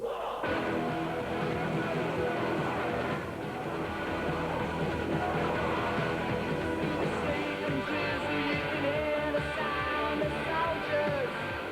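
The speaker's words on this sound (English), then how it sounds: "This is the sound of an electric guitar." A dense, full band of rock music plays continuously at steady volume, with a sustained electric guitar woven through the mix.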